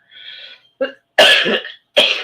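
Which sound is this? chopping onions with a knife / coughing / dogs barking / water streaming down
coughing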